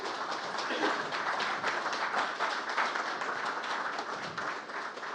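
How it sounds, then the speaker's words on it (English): Sustained audience applause fills a brewery pub talk evening, a dense, steady wash of many hands clapping at close range with no speech over it. "How about a round of applause for our friend Rob?"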